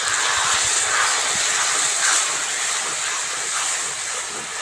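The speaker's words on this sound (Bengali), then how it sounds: "এবার অল্প একটু জল দেব।" Water splashed into frying fish curry masala of red chilli powder, sugar and green chillies for a Bengali shimul-kata fish oil curry, giving a steady loud hiss and sizzle that holds throughout with no talk.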